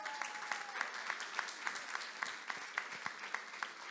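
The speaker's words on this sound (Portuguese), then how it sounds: "dá uma salva de palmas" Faint, scattered clapping from a small church congregation during a family worship service, with steady rhythmic claps and soft background noise and no voices.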